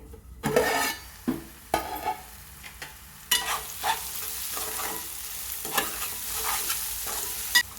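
Raw mango curry fries in a pan, a steady sizzle broken by repeated loud scrapes and knocks of a spoon against the metal.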